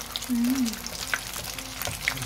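Hot oil sizzles and crackles steadily as fish fries, with a few light clinks from a utensil close by.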